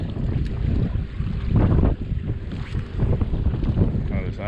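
Strong wind buffets at North Pier on a high-tide morning, loud roaring gusts and microphone rumble with a hint of surf underneath, continuous and close.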